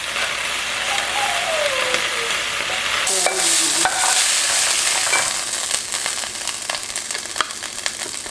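Spinach being stir-fried in a pan for bibimbap, with steady sizzling and the scrape and clatter of stirring, fairly close and with no voices.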